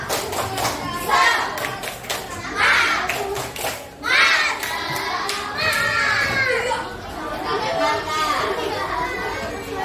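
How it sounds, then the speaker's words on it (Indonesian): Schoolchildren in an Indonesian classroom perform a rhythmic group spirit clap, sharp bursts of hand claps and slaps landing in quick patterns amid lively chatter and shouting voices nearby. "Tepuk semangat"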